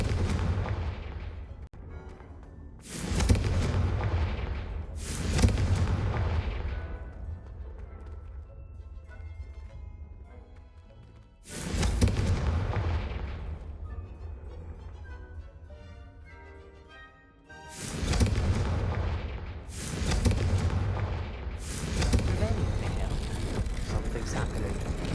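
Confringo spell blasts in the video game Hogwarts Legacy land as loud, booming explosions, about six heavy bursts spread irregularly over the stretch, each trailing off into a rumbling decay between quieter game ambience.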